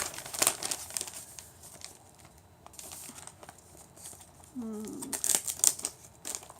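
Paper crinkles and rustles in bursts as it is folded around fresh herbs, close and fairly quiet, with irregular crackling handling noises and brief pauses between them.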